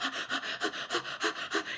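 A voice imitates a mouse panting fast: about eight quick, evenly spaced breathy huffs in under two seconds, close and clear with no talk over them.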